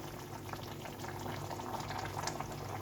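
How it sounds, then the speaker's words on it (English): Spinach simmers in a pot, giving a faint, continuous bubbling and hissing boil with no talk over it. "So the spinach is cooking nice."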